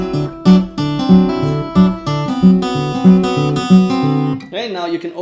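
Travis picking on guitar in A using open strings, with a steady alternating bass and plucked treble notes in a bouncing rhythm over several bars, close and bright, before a brief sliding note at the end.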